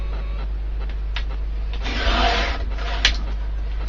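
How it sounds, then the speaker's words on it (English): A paper trimmer slices surplus off a sheet of card stock, a close, soft scraping swish rising in the middle and ending with a sharp click, over a steady low hum. "we're now going to cut the surplus off"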